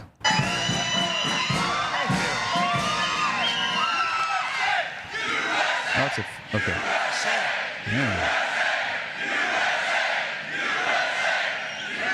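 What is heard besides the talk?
large crowd cheering and shouting at outdoor summer event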